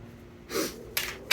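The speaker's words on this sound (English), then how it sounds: "Just take a big sniff." Three sharp nasal sniffs, one long and strong followed by two shorter quick ones, loud and close with nothing else around.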